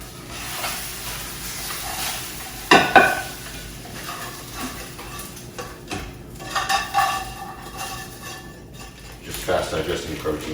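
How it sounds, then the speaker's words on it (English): Egg whites and a whole egg cook in a pan with a steady hiss, a few clinks of a utensil and a sharp clatter near the start, all beneath a voice. "I have 200 milliliters of egg whites and 1 whole egg cooking."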